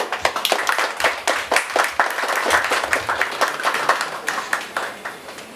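An audience applauds after a talk on fiction, with sustained, dense clapping that stays loud throughout and tapers slightly at the end.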